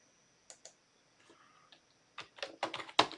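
Keystrokes on a computer keyboard as commands go into a terminal, a few isolated taps at first, then a denser burst of quick clicking toward the end, fairly close and fairly quiet, with no talking.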